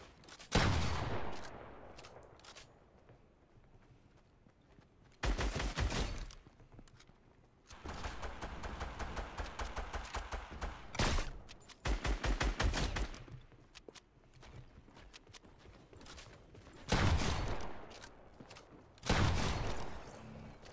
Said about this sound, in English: This shotgun is good.